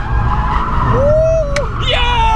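A Mercedes C63 AMG drifts with its tires skidding, a loud close squeal that rises and bends in pitch over a steady engine roar, with a brief sharp burst near the end.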